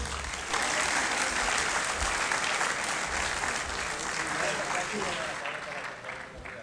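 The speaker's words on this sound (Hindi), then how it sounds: "मैं चाहता हूं भरपूर तालियों से इस्तकबाल कीजिएगा" Audience at a Multan Urdu mushaira breaks into full, sustained applause welcoming poet Sarfraz Arish, a dense wash of clapping that holds steady before easing slightly toward the end.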